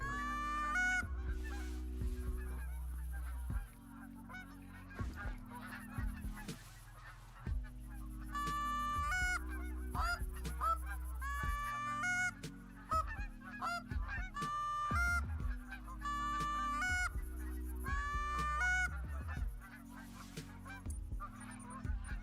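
Geese honk repeatedly in a waterfowl hunting video game. Loud, overlapping calls come in irregular bursts over a low, steady game ambience, with no one speaking.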